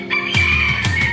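Chickens in a coop, several rising squawking calls and clucks close by with a thin high tone running underneath, over a quiet background.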